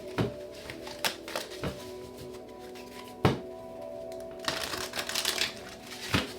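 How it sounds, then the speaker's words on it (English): Tarot cards being shuffled by hand, a series of sharp separate riffles and taps with brief flurries, close and fairly quiet against a steady low hum, no talking. "Let me just finish shuffling."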